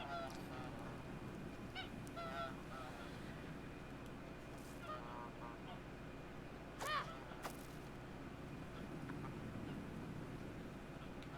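Geese honk in the video game Knights and Bikes: a few scattered honks, one louder call standing out, over a steady low game backdrop.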